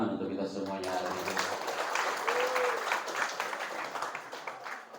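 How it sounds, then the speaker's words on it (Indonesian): Seminar audience in a school hall applauding together, a dense steady patter of many hands that holds at an even level, with a brief voice and some crowd murmur mixed in. "Tepuk tangan untuk kita semuanya hari ini."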